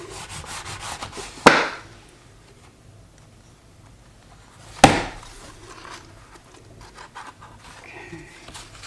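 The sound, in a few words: burnishing paper onto junk journal cover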